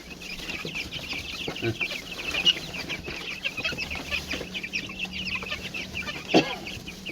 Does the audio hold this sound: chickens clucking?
yes